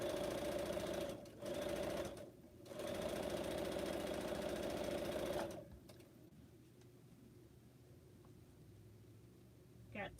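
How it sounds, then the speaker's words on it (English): A sewing machine runs in steady bursts while quilt pineapple blocks are stitched, stopping briefly twice before a long run ends around the midpoint, leaving a quiet room with faint handling noises. "I'm going to get these sewn before I make another mistake"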